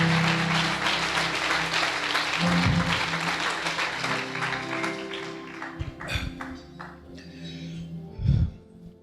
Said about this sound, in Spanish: Denle un fuerte aplauso al Señor en esta noche.